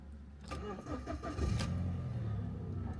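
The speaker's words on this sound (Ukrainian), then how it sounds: "автомобіль заводиться чудово" A used car with 198,000 km on it cranks briefly and catches, then settles into a steady low idle, heard up close.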